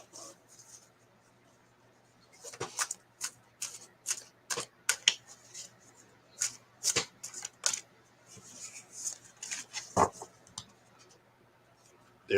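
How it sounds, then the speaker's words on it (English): Oracle cards are shuffled in a series of short, crisp riffling and flicking bursts that come in uneven clusters, close and clear, with quiet gaps between them. "Give me just a moment to make sure everything's shuffled real good."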